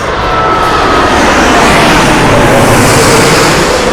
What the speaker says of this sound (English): Yeah, it's A380.